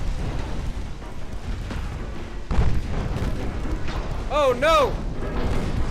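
A torpedo slams into a warship in the naval battle game Ultimate Admiral Dreadnoughts, a sudden heavy boom rising out of a rumbling battle backdrop, followed by a loud exclamation from a voice over the lingering roar.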